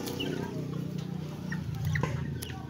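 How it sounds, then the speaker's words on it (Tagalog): Several chickens cluck and murmur close by as they eat brown rice feed, with soft pecking taps scattered through a steady low hum of farmyard noise. "Ang sarap ng kain ng mga manok."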